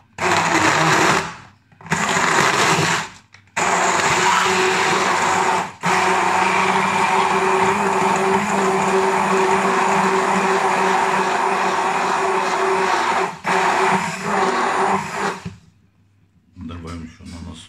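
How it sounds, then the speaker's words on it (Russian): A blender whirs loudly and steadily while blending a banana colada cocktail with pineapple juice, running in several bursts with short pauses between them. "И берем блендер."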